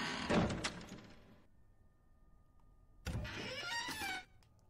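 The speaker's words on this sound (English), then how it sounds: "Stop closing and opening the door!" In a horror game set in a dark house, a door opens and then closes: two scraping, creaking mechanical bursts, each over a second long, separated by a quiet pause with a faint hum.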